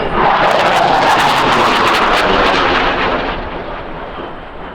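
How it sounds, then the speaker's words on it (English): A CF-18 Hornet fighter jet makes a fast, straight pass at an air show, a loud broadband roar that holds at full strength for about three seconds and then fades as it moves off. "Swept a straight big pass by the CF-18 Hornet."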